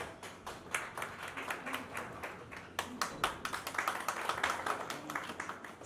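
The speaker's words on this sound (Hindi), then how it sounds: "तालियां होनी चाहिए यहाँ पे भी।" A crowd claps in a lively, uneven patter of hands, fairly close, swelling briefly midway and continuing without any talking.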